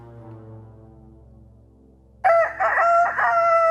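A toy robot plays an electronic rooster crow, a loud, bright cock-a-doodle-doo that breaks in suddenly after a low hum and carries on for over a second.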